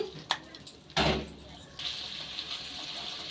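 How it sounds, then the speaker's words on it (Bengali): Water from a rinsed mixer jar is poured into a pan of tempering spices, a short splash and trickle following a couple of clunks, then a faint hiss settling in. "মিক্সির বাটিটা ধুয়ে একটু জল দিয়ে দিচ্ছি"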